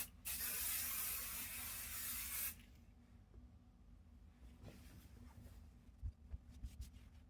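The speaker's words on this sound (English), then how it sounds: "Lift the backing fabric up, spray, and go." Spray basting adhesive hisses from an aerosol can onto quilt backing fabric on a table, one loud continuous burst of about two seconds, then quiet rustling of fabric being handled.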